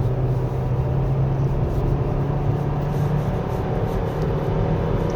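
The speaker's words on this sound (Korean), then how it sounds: "그 시프트 업은 6000 RPM을 약간 넘어서 이제 하네요" A 2024 Hyundai Kona 1.6 Turbo 2WD pulling hard on a winding road, its engine droning steadily under loud cabin and road noise as it climbs toward about 6000 RPM before shifting up; no one speaks.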